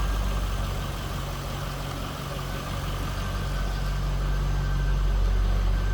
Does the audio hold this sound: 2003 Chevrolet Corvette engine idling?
yes